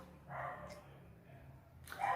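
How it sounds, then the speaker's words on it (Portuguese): A dog barks in the background, a few short barks near the start and again at the end, faint and somewhat distant. "Tem até cachorro latindo no fundo."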